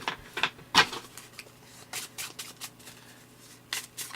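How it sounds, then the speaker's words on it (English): A deck of playing cards being shuffled by hand on a table, with several quick riffling bursts and softer card slaps spread through the stretch, close and fairly quiet. "I gotta shuffle these up real quick here."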